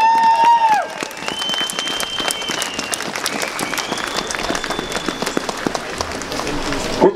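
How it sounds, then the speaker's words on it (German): A crowd at an outdoor patriot rally in Stollberg bursts into loud, sustained applause, dense clapping with scattered whistles and cheers. A voice's tail is caught at the start. "Dafür mal einen Applaus!"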